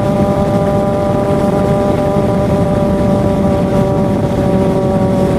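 A Kawasaki Z800 motorcycle's engine drones steadily during a night ride, a loud, continuous tone with layered harmonics and rushing wind, and no talking.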